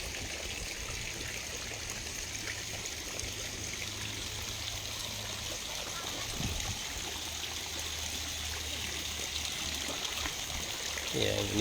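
Water flowing steadily at a children's swimming pool in Lembah Nirwana, a continuous rushing trickle like a small fountain or stream. Faint voices sit underneath and a brief thump comes near the end.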